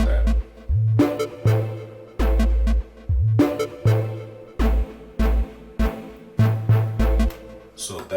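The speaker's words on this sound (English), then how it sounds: "So everything sounds like this without the drums." A riddim's main beat pattern plays without drums: a repeating loop of punchy low bass notes and bright chords in a steady, loud rhythm, with brief gaps between phrases.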